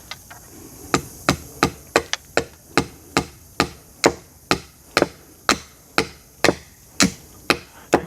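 Wood being pounded hard while a roof is prepared for thatching at a forest home: a steady series of about twenty sharp, loud, close thwacks, roughly two per second, with no talking.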